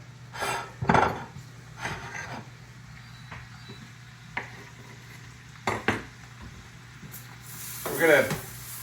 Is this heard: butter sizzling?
yes